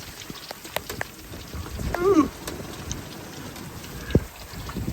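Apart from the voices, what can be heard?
rain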